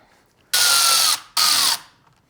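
Two short, loud bursts of a power tool or ratchet driving the bolts on a running board bracket during an aftermarket step install on a Ford F-150, each lasting under a second with a brief pause between.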